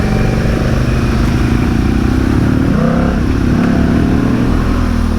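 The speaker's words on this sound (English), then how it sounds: "who would have ever thought I'd be riding with a Harley Davidson this far in the bush" A Harley Davidson Pan America motorcycle rides through the bush, its engine a loud, continuous close rumble with clattering over rough ground, no voices.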